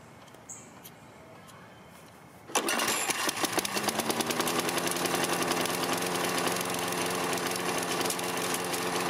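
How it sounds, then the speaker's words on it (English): Quiet background, then a small engine starts abruptly and keeps running with a spark tester plugged in, a loud, steady, rapid chugging drone. "Now you can also run your engine with the tester plugged in."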